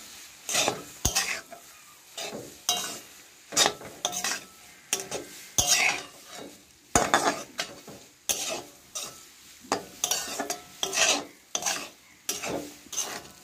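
Pasta and spices being stirred in a frying pan: a spatula scrapes in steady, repeated strokes over a constant sizzle, with a few sharp metallic knocks against the pan.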